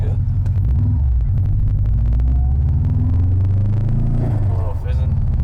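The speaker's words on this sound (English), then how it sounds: "Missed second gear on the downshift" A 2002 Subaru WRX wagon misses second gear on a downshift, and its engine makes a loud, close, continuous low rumble with revs swelling and sagging throughout.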